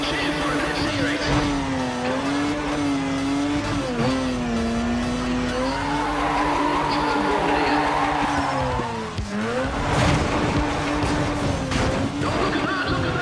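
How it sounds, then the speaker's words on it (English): A race car crashes in Need for Speed: ProStreet on PS2: a constant high engine whine with shifting pitch, tire squeal and skidding, then a sharp smash near the end before the engine drones on. "He's absolutely smashed that car."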